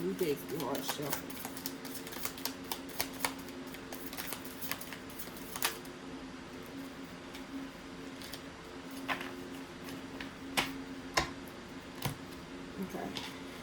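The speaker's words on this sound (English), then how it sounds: "Ooh, these new decks be hard to shuffle." A new, stiff deck of playing cards being shuffled indoors, with soft riffling, scattered sharp clicks and taps of the cards, quiet and close, while a person talks over it.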